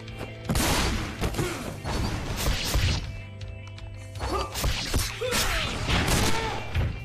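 Bursts of rapid gunfire crackle in quick volleys over a steady electronic hum, loud and close, with brief pauses between the shooting.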